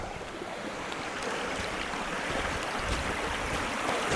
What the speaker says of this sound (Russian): О, этот же ручей, ребята, этот же ручей. Посмотрите, как он бурным потоком прям отсюда.